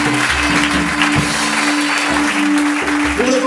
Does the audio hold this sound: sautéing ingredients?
no